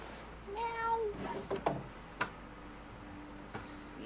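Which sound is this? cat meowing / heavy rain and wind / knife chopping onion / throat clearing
cat meowing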